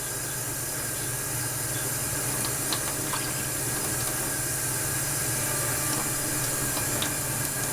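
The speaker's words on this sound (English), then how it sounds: "then you fill it up with colder water" Cold water pours steadily into a container while photographic chemicals are being mixed in freezing 22°F conditions, a constant, even rushing hiss with no talking.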